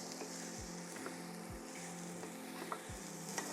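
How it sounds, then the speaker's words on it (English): A spatula scrapes a clean-out stir fry coated with turmeric around a hot pan. The steady sizzle of frying food runs under three or four distinct scraping strokes spaced about a second apart. "I may add just a touch more turmeric, but we're gonna keep stirring."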